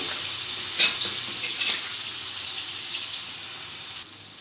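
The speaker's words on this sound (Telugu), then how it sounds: "ఆయిల్లో కొంచెం పసుపు వేసాను కొంచెం అల్లం వెల్లుల్లి పేస్ట్ వేసి" Turmeric and ginger garlic paste frying in oil for a potato or parwal fry, giving a gentle continuous sizzle with a few light stirring clicks, close and fairly quiet, with no voices.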